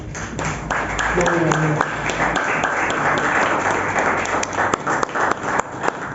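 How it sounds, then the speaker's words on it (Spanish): A church congregation applauds during a Spanish-language service on prayer, mixed clapping with scattered sharp individual claps and voices speaking over it, fairly loud and close. "Dale un aplauso al Señor."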